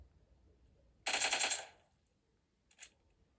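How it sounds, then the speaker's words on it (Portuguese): Gunfire in PUBG Mobile on a Realme C25 phone: a rapid automatic burst lasting about half a second, then a single shorter shot moments later, fairly distinct against quiet background. "Pra gente escutar os tiros também, né?"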